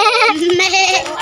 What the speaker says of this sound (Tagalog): May kambing pa oh. May kambing oh!